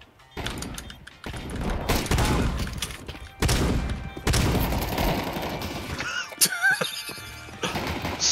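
Sawed-off shotgun fired in a video game, heavy booming blasts recurring every second or so, with game effects and a high electronic whine late in the sequence.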